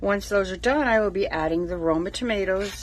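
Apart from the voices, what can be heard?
None of the usual background noises is heard.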